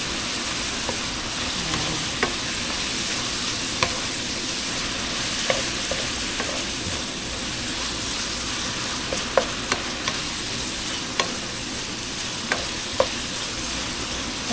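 Garlic and onion sauté in a pan as the base for a Filipino spaghetti sauce, giving a steady broadband sizzle with occasional sharp clicks of a utensil scraping and stirring throughout.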